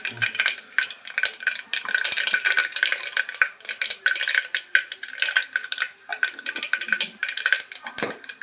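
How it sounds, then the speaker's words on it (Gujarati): Spices for tempering crackle and pop in hot oil in a pan, rapid sharp close crackles with light clinks of a utensil against the pan. "જોઈએ વઘાર દેવા છે, તાજુ તકડે છે."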